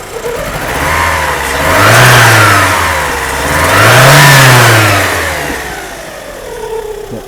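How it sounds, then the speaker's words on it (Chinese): A Volkswagen Passat GL engine, just repaired after a distributor fault, revs hard twice in a row, each rise climbing to a loud high-RPM roar and falling back toward idle, heard close up with no talk. "大哥来做个高速加油"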